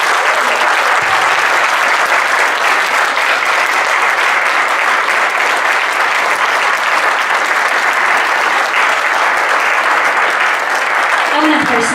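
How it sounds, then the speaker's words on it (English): Loud, sustained applause from an audience at an alumni networking reception panel, a thick wash of clapping that runs unbroken for about twelve seconds, close and full with a faint murmur of crowd within it. "can we just give them a round of applause?"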